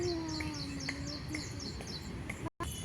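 Small birds chirp and tweet softly in the distance in a garden, repeated short calls over a faint background hum and a low murmur.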